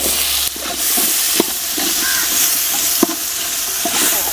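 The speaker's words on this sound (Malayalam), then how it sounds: "കുറച്ച് കടുക് ഇട്ട് കൊടുക്കും. അപ്പൊ അടുത്തത് നമുക്ക് ഉള്ളി ഇട്ട് കൊടുക്കാം." Chopped onions and mustard seeds fry in oil, a loud, constant close-up sizzle and hiss broken by a few sharp stirring knocks against the pan, with no talking.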